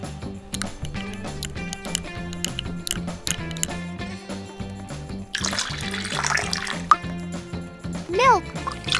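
Water pours briefly into a miniature cooking vessel, a splashy burst in the middle of upbeat background music, with a voice speaking near the end.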